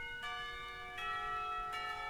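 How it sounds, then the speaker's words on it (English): School bells in the Katawa Shoujo video game ring out for the end of class with a bright, sustained chime and three evenly spaced strikes over a low background. "The bells heralding the end of school makes me jump in my seat."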